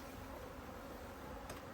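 A soft, steady hum of many honeybees buzzing together at an open hive, faint and continuous, with no voices.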